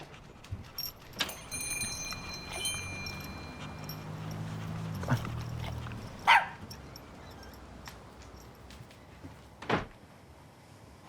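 A dog barks a few times in a quiet room, the short sharp barks spaced apart over low background noise with no voices.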